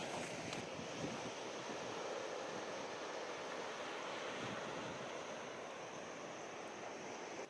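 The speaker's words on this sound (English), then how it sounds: "So we're right down on the beach now." Surf washing onto a beach on the Isle of Skye coast, a steady close roar of breaking waves with gusty wind buffeting the microphone, continuous throughout with no speech.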